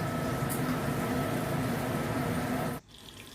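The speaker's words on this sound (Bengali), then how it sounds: "করলাগুলো দেখুন ভাজা হয়ে এসছে" Bitter gourd frying in hot oil, a steady dense sizzle running loud and close for almost three seconds before cutting off abruptly.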